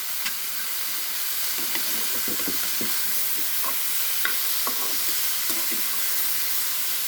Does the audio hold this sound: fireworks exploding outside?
no